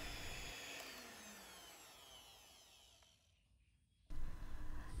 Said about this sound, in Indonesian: Di mixer menggunakan kecepatan paling rendah, di mixer sampai tercampur rata aja.